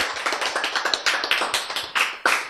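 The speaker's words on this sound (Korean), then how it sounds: "박수!" Lecture audience at a Bible class bursting into a short round of brisk, close, crackling applause, a steady patter of hand claps with no talk over it.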